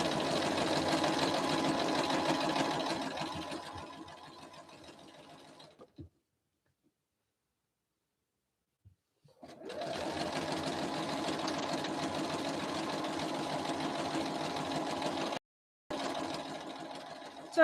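Sewing machine stitching quilt pieces in a steady whirring run that slows and stops, falls silent for a few seconds, then starts again, with one brief break near the end.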